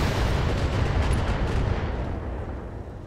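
Weapon fire in the mech game BattleTech: a long, loud roaring salvo of missile launches and blasts that rumbles continuously for a few seconds and then slowly fades, close and unbroken by voices.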